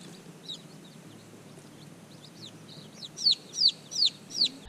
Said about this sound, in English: I am now the proud mother of 32 Rhode Island red chickens. These are my babies.